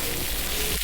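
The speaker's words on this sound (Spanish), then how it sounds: "vamos a darle una movidita a todos nuestros tomatitos, chiles, cebolla, ajo" Tomatoes, chiles, onion and garlic fry in oil with a steady, loud sizzle as they are stirred, a close and continuous hiss.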